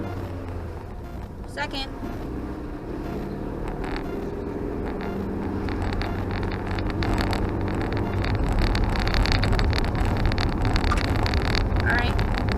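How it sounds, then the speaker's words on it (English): A 2003 Kia Rio with a newly replaced clutch cable drives down a street in second gear, a low steady engine drone with wind rumble slowly building, while someone talks over it. "we're going to go ahead and try and drive down the street a little"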